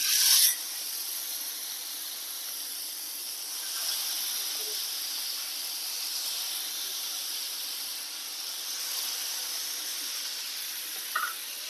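Kilimeen fish frying in oil, a steady soft hiss and sizzle that holds evenly for the whole stretch, with a small clatter at the start and end.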